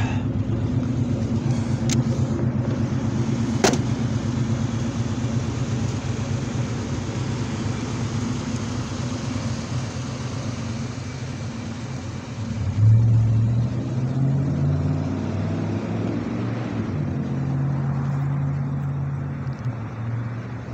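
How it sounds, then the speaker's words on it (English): A car engine idles steadily in the parked vehicle outside an abandoned family restaurant in Mount Morris, Michigan, a constant low rumble running alone throughout with a slight swell midway. "I'm gonna leave the car running."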